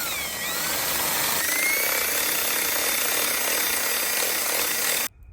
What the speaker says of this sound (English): So we're gonna drill it